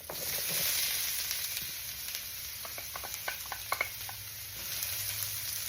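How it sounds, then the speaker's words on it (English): Soft, steady sizzling of diced onion frying in a hot skillet, with a few faint clicks and scrapes, no voices. "that looks like it's nice and sizzling."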